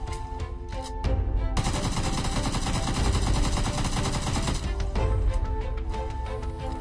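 Game gunfire in PUBG/BGMI aimed at a zombie, a dense sustained burst of rapid shots lasting several seconds, loud and close, with lighter scattered shots before and after and no talk.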